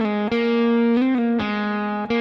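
A guitar lick with slides and pull-offs rings out as sustained, bright electric tones, a few connected notes shifting pitch in a short phrase with no talking.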